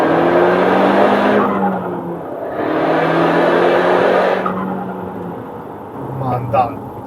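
An Audi S3 with four-wheel drive accelerating hard, its tires gripping. The engine swells in two loud surges with a brief dip between, ending in a short squeak.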